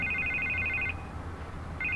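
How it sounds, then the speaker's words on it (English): A telephone rings in a Batman video game, two bursts of bright electronic trilling with a pause between, loud and alone over a low hum. "I can't get the phone to stop ringing."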